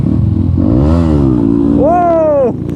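A motorcycle popping a wheelie revs loudly and close, its engine tone rising and falling, then climbing to a high, strained rev before dropping away abruptly.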